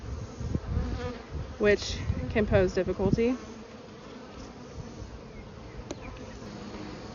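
Honey bees buzzing in a hive, a close, wavering drone with passing bees swelling louder for a few seconds before fading to a softer background hum, with a voice speaking briefly.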